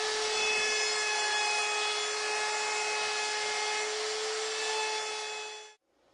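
Router spinning a 1/4 inch round-over bit along the top and bottom edges of a wooden tabletop, a loud steady high whine held for several seconds before cutting off abruptly.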